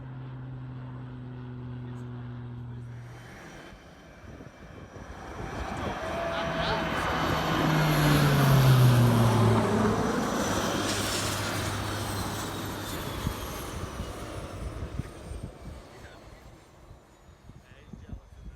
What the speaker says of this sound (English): they came and scoped out the site with another Borek Twin Otter before coming in to take a couple loads for us